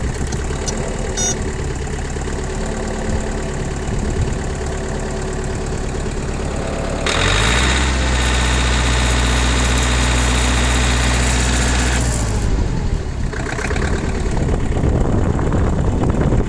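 A cold Mitsubishi MT21D four-wheel-drive mini tractor diesel engine idles roughly nearby with a steady knocking chug, briefly roaring louder in the middle before dropping back to its uneven idle.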